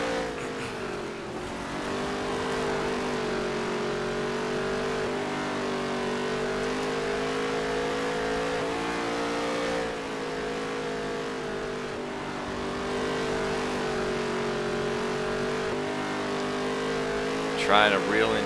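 Race car engine in the NASCAR Heat 3 video game, a steady loud droning roar with slight rises in pitch as the car is pushed harder, running continuously under talk.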